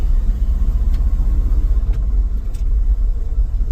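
Ford F350 dump truck on its first test drive, a loud, steady low engine rumble heard close from the cab with no talk.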